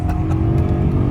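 A BMW 1M Coupe with a swapped S65 V8 engine, heard as a loud, steady, deep engine drone held close throughout a brief moment with no voices.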